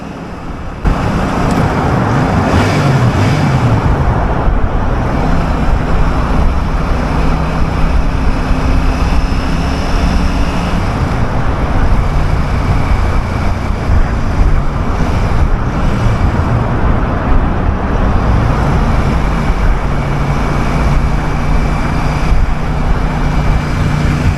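A Royal Enfield Super Meteor 650 motorcycle rides a motorway through a tunnel, its engine drone steady and loud under heavy wind rush and the roar of surrounding traffic.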